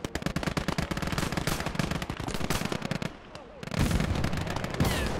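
Rapid machine-gun bursts rattle almost continuously in a Call to Arms battle set in 1946, dense and loud, with a brief lull near the three-second mark before the heavy firing resumes.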